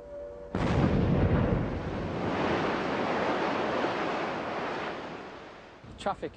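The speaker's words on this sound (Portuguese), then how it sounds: "Aí haverá uma explosão enorme, que geralmente estremece a minha casa" A sudden, huge limestone quarry blast erupts, followed by a long, loud rumbling roar that slowly fades over several seconds.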